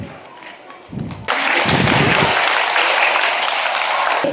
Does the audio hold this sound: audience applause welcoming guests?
yes